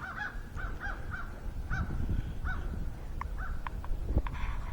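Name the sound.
crows calling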